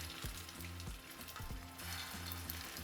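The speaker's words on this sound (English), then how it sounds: "we're going to add our meatballs" Meatballs searing in hot oil in a pan over medium-high heat, a soft continuous frying hiss with faint crackle, quiet and steady, over a low rhythmic background hum.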